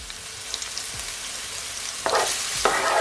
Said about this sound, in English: Gonna give it a stir.